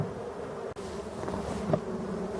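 A honeybee hive being shaken gives off a dense, steady buzzing drone, loud and close, with a brief knock partway through and no talk over it.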